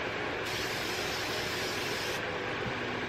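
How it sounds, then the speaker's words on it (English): A bottle of cleaner is sprayed down onto a surface during household chores, making a loud, close, continuous hiss that lasts about two seconds within a noisy room. "now I'm just gonna spray this down"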